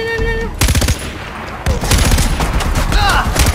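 Rapid bursts of automatic gunfire in the video game Far Cry 4 crackle loudly, with a short pause before another sustained volley of shots.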